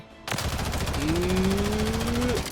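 A stock, unmodified BAL-27 rifle fires in Call of Duty MW3 in one loud, continuous automatic burst of rapid shots lasting about two seconds.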